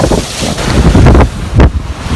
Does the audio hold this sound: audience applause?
no